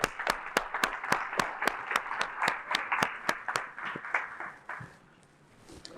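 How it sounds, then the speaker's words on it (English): Audience at a university talk at Clemson claps in rhythmic unison, about a dozen sharp, evenly spaced claps over a softer bed of scattered clapping that thins out and fades toward the end. "So let's clap it up for Miss Liz real quick."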